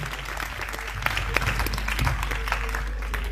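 An audience at a church testimony gathering bursts into sustained applause, a dense stretch of clapping that fills the whole span with a few louder claps standing out.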